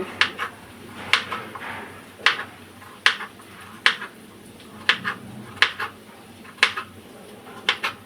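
A knife cuts papaya into small pieces on a board, making a run of sharp, close chopping taps in a steady rhythm about once a second over quiet background noise.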